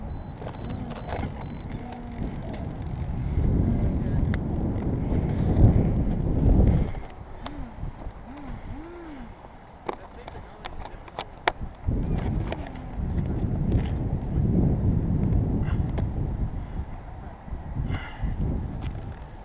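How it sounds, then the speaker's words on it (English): Strong outdoor wind buffets the microphone in heavy, low rumbling gusts with brief lulls, and faint voices come through now and then. "the wind was just kind of doing everything."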